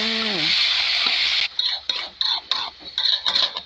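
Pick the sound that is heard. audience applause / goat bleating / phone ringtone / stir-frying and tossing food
stir-frying and tossing food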